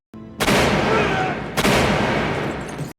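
Gunshots in a film scene: two loud, sharp blasts about a second apart, each followed by a long, rumbling decay and thick noise, with no talk.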